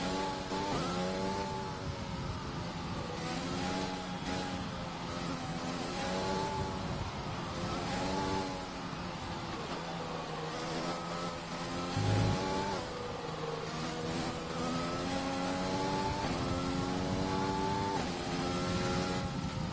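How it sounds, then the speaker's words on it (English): F1 2020 race cars lapping in the video game produce a steady, continuous engine drone with repeated rising and falling revs as the cars shift gears, close and loud throughout. "I think the cars behind me are doing their final laps."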